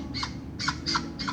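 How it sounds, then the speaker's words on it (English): Several ducks call outdoors in a run of four loud, raspy squawks spaced roughly evenly over about a second, close to the microphone, with no talking. "I know you hear the ducks."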